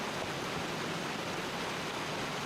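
A waterfall roars in the video game My Time at Portia, a steady, broad wash of rushing water that stays loud and unbroken throughout.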